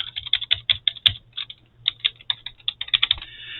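Password being typed on a computer keyboard: a fast, uneven run of close, crisp key clicks with a few short pauses and one sharper tap, no voices.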